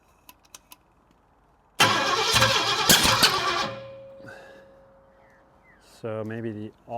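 A barn-found 1929 Ford Roadster engine cranks and briefly fires after 20 years of sitting, a rough burst of mechanical noise that fades out, followed by a voice speaking.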